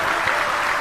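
An audience at a Bhagavat katha claps together in a dense, steady burst of applause, loud and continuous for under a second.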